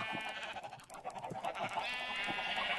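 Blocky Minecraft sheep let out a string of wavering bleats, a few separate calls followed by a longer drawn-out one, fairly close and on their own.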